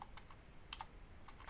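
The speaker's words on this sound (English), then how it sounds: "you would type in sudo reboot" Faint, close keystrokes on a computer keyboard as a reboot command is entered: a quick run of light, irregular clicks, about eight taps, over quiet background hiss.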